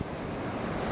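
Ocean surf rolls steadily onto a Hawaii beach in December, a dense, continuous wash of breaking waves with wind buffeting the microphone, loud and close with no voices.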